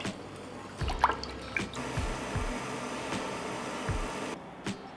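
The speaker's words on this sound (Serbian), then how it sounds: "I preko šećera ću sipati 2 litre vode." Water is poured over sugar in a pot to make syrup for preserved nectarines, giving intermittent splashes and drips with a few dull low knocks, close and fairly quiet.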